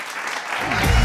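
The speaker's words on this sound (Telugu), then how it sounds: "చప్పట్లు." Applause rises from a studio audience at a Telugu comedy show, growing from scattered clapping into a loud, dense burst of hands near the end of this short moment.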